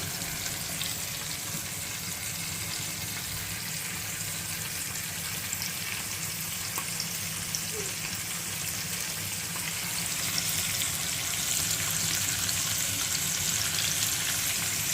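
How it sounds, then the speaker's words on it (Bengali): Fish frying in a frying pan gives a steady, continuous sizzle and hiss from start to finish, close and fairly even in loudness, with no talking. "এই যে মাছগুলো ফ্রাই প্যানে ফ্রাই করার জন্য দিয়ে দিচ্ছি।"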